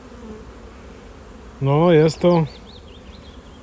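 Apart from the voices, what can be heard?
honeybees buzzing during young bees' orientation flight at hive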